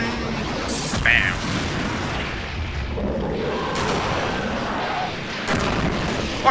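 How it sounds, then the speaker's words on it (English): Shotgun blasts in the horror video game Eternal Darkness: Sanity's Requiem, a few loud booming shots spaced over a busy background of game noise. "Fuck you, I got a shotgun."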